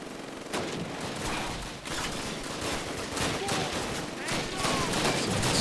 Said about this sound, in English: Snipe this machine gunner with my MP40